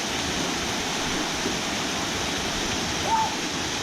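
A waterfall roars loud and steady nearby at 3 AM in December, a dense, unbroken rush of falling water with no pauses.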